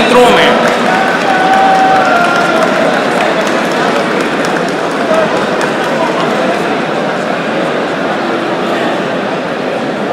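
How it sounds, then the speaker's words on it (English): A crowd applauding at a sports gala closing ceremony during javelin prize announcements, dense continuous clapping and cheering filling the space, loud and sustained with voices mixed in. "So a big round of applause for Wajiha from department of Islamic studies"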